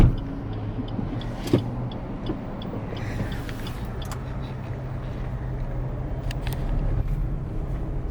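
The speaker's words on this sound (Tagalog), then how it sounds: "Traffic bumper to bumper." Bumper-to-bumper road traffic makes a continuous, close rumble of idling and creeping vehicles, with an occasional knock and a faint whir over the steady engine drone.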